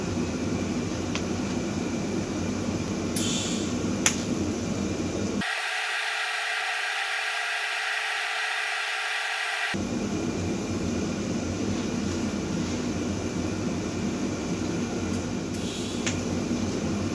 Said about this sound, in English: We're just going to put about an inch of weld around each of the tacks.